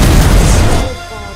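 Giant siege cannon, the largest cannon ever built, fires in a single loud, deep boom that rolls on briefly before dying away into a lower rumble.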